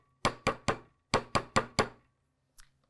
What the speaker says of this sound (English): I'm going to go ahead and hammer them all flat first